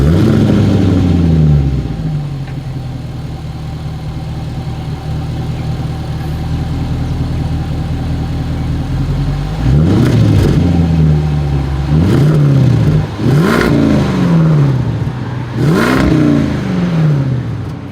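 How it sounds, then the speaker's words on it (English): A 2023 Land Rover Defender 90 V8 Carpathian Edition idles with a deep, loud exhaust burble, then blips its throttle four times in sharp rising-and-falling revs, heard close and alone. "As always, here is that exhaust clip."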